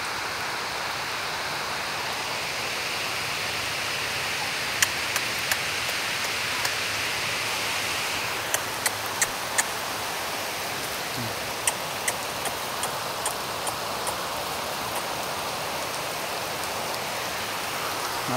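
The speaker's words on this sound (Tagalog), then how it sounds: "Maulan." Steady rain falling outdoors, a dense continuous hiss of drops on surfaces with a few sharper nearby splats and taps scattered through, close and even throughout, no talking.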